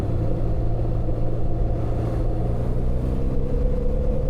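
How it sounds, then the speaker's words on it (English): BMW R 12 G/S motorcycle pulling hard in fourth gear, its engine giving a steady low rumbling drone with a slowly rising pitch, close and continuous under rushing wind. "fourth gear here, crazy torque on this engine"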